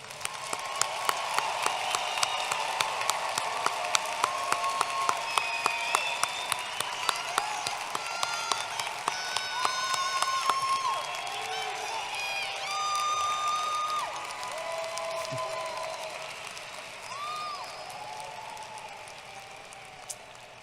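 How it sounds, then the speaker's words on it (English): A large crowd applauds graduates at a Tennessee Tech University fall commencement, with steady sustained clapping and scattered cheers and whistles filling a big hall. "Please join me in giving these graduates another round of applause."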